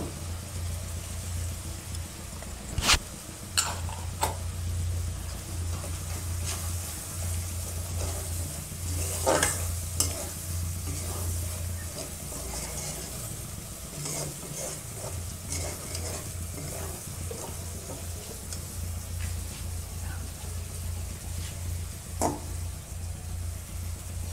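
Ginger and potatoes fry and get stirred in a pan for a prawn and jackfruit dish, a steady sizzle with repeated scraping stirs and clinks running throughout, close and moderately loud, with a low hum underneath.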